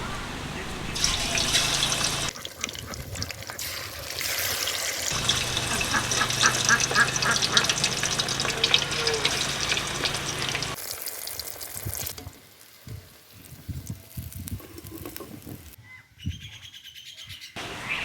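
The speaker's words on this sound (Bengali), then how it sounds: "মাছ ভাজা হয়ে গেছে" Steady sizzling and crackling of rohu fish frying in oil with turmeric fills most of the clip, with bird chirps and scattered clatter in the background and quieter gaps near the end.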